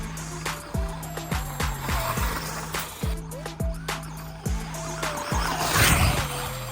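A Losi ProMoto-MX RC motorcycle rides across an open field, its high electric motor whine rising and falling in repeated throttle bursts with tire scrabbling near the end, fairly close.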